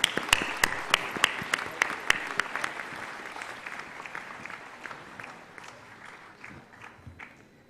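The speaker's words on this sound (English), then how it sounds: "I want a huge round of applause for all the awardees." Audience applause for awardees at a convocation ceremony, a few sharp, distinct claps up front over a broad crowd wash that gradually thins and fades toward the end.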